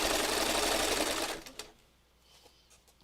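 Sewing machine running a fast, steady seam along a fabric heart, loud and close for over a second before cutting off, followed by faint handling sounds.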